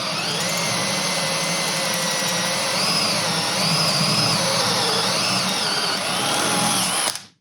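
A worn-out, burnt-out power drill whines at high speed, steady and close, its pitch wavering slightly before it cuts off abruptly at the end.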